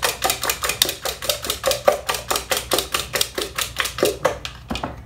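Fried apple pie batter with oil is beaten by hand in a bowl, a fast, even run of close, sharp tapping strokes that slows near the end.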